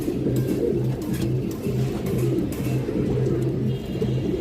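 High flyer Giribaz pigeons coo steadily and close by in a loud, continuous chorus of repeated low throaty calls that pulse in a regular rhythm throughout.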